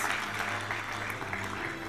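Audience applause at the EGU 2014 award ceremony for award recipients, a steady, fairly faint wash of clapping throughout.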